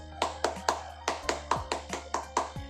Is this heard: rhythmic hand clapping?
yes